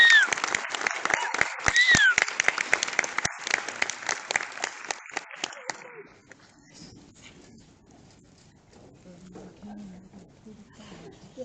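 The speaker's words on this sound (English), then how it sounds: "Let's give all of these wonderful people that are on the stage and our administrators another round of applause" Scattered applause from an audience honouring people on a stage and school administrators, a flurry of individual claps over murmuring voices that fades after about six seconds, leaving quiet room noise and talk.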